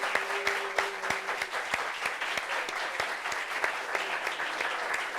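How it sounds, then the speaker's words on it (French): Sustained applause from a studio audience, dense rapid clapping throughout, loud and continuous with no talking. "Applaudissements pour lui."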